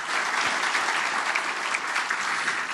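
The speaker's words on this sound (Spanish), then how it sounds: "os pido un aplauso primero para el ex ministro de Hacienda y economista Ignacio Briones." Audience applause for former finance minister Ignacio Briones at an economics talk, dense steady clapping from a crowd that holds at an even level throughout.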